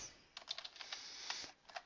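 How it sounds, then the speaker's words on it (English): A name is typed on a computer keyboard, with quick, light, irregular key clicks close by and quiet, no voices. "you're going to type your name in here"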